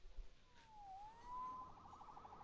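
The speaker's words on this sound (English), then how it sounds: "Saved by the siren." An emergency siren in a Spider-Man video game wails in a rising and falling sweep, faint and distant in the mix, with no talk over it.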